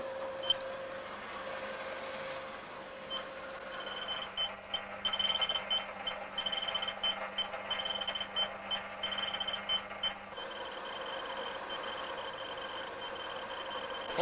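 A fax machine sends a message with a steady electronic tone, a low hum and rapid pulsing beeps that stop, then resume at a lower level, with no voices present.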